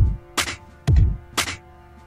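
A programmed drum beat from a drum sequencer, with the kick on the downbeats and the snare accented on beats two and four: alternating low thumps and sharp snare cracks in a steady, sparse pattern, close and clear with no voice.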